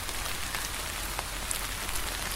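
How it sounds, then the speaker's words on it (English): Heavy rain falls steadily as a dense, even hiss with scattered drops tapping on surfaces, continuous throughout with no voices. "Guess he went through the heavy rain to get to my place."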